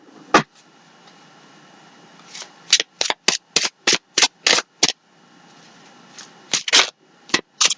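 Tarot cards being riffled and snapped down in quick bursts, a rapid run of about ten crisp card flicks after a lone slap, then a few more shuffles, close and clear in a quiet room.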